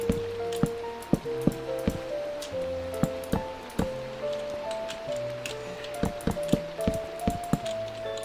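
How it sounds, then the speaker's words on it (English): Steady rain in Minecraft with scattered drips and taps pattering on a surface, continuous and fairly close, with no voices. "oh, it's raining"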